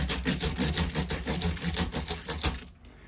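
Sandpaper rubbed rapidly back and forth along the fret edge of a Martin Road series acoustic guitar during a stainless steel re-fret, a close, loud, rhythmic scratching that stops abruptly near the end.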